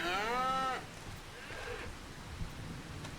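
A single Limousin cow in Farming Simulator 25 lets out a clear, drawn-out moo at the start, followed by a quiet rain-like hiss of farm ambience.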